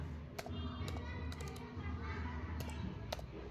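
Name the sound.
typing text on a computer keyboard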